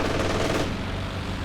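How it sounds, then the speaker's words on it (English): In the Company of Heroes 2 video game, an aircraft strafing run rattles as dense, continuous machine-gun fire, loud and rapid throughout the short burst. "Another strafe."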